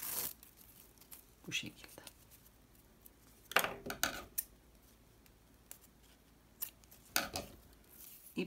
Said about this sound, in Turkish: Şimdi dikmek için bir miktar ip ayırıp ipi kesiyorum.